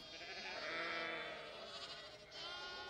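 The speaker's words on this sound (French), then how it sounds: "Feeding the baby lambs." Baby lambs bleat on a farm in a steady, continuous wavering cry that stays close and loud for the whole stretch, with no talk over it.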